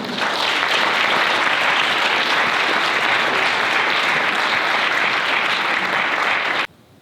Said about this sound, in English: So I'm going to stop, you're going to clap, and then you're going to ask questions.